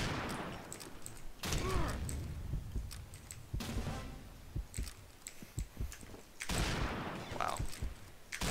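Gunfire in the shooter game Combat Arms as a player keeps firing at an enemy turret, with bursts of muffled shots and impacts coming in loud clusters and choppy pauses, fairly close.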